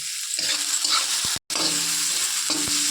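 Spice paste with turmeric and salt sautéing in oil in a pan, a dense continuous sizzle with a few metallic stirring knocks, close and loud, cut briefly by a moment of silence.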